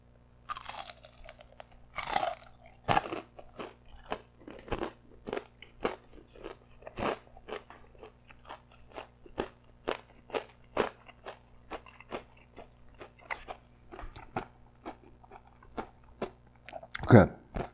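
Crunchy battered fried duck being bitten and chewed up close, with a series of sharp, loud crackling crunches spread through the clip and a pause between bites.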